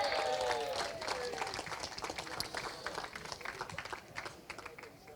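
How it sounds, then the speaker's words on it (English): A crowd at a Kartmasters karting awards ceremony claps in applause for a Minimax driver. The clapping is moderately faint and steady, fading slightly, with a voice briefly audible at the start. "Big round of applause, please, for Minimax driver 37, Reg Hayward."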